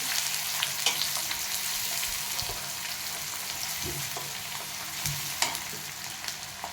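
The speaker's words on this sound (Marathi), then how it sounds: "आता थोडासा कांदा टाकून घेतो चिरलेला बारीक छान परतून घेतो तेलात" Finely chopped onion sautés in hot oil with whole spices for a village-style Karjat shipi amti, a steady close sizzle with scattered spoon scrapes and stirring clicks throughout, no talking.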